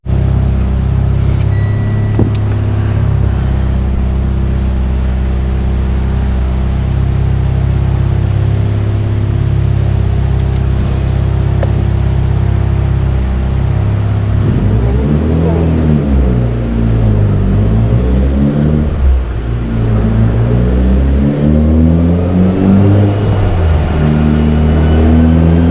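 Stock-engine Mitsubishi Evo X with a GTX3076 turbo, 1200cc injectors, Walbro 450 pump and flex fuel, idling with a loud steady rumble, then revving hard in repeated climbing sweeps that hit boost cut, close and continuous.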